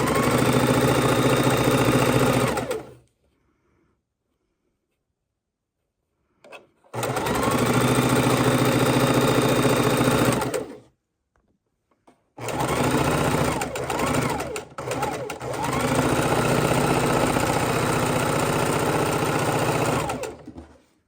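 A sewing machine stitches pieced quilt blocks together in three long, loud bursts of steady whirring, separated by short silent pauses.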